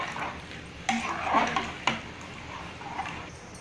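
Mushroom biryani mixture being stirred in a pressure cooker, with a few sharp metallic clinks of a spoon against the pot and soft scraping between them, close and fairly quiet.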